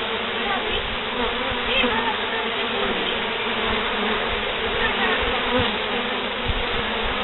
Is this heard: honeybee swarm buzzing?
yes